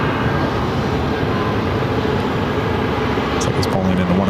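A One World-liveried Boeing 737-800 airliner taxis into a north side gate at Terminal 4 of Phoenix airport, a steady broadband jet engine roar heard from a distance, with a brief higher whine near the end.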